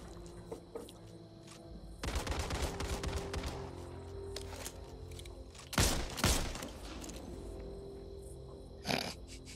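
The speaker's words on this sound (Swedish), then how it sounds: "Jag gillar att det studsar skott överallt på." Video game gunfire from Back 4 Blood, with bursts of shots and ricocheting bullets; loud clustered volleys around the middle and a final burst near the end, over a steady game background with no talk.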